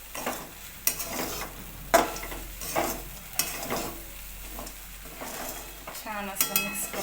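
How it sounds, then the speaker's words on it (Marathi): Potatoes being stirred into poha in a pan: a rhythmic series of spoon scrapes and clinks against the metal over a low sizzle, close and fairly quiet, with no talking. "आता त्यात बटाटे टाकून घेऊ आपण"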